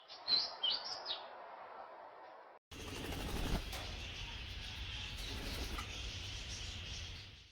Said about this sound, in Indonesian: Burung beo masih satu rumpun dengan burung jalak, yang termasuk suku Sturnidae, dengan nama ilmiah Gracula religiosa